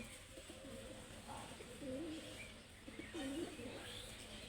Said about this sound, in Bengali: দেখো কত পাখি চলে এসেছে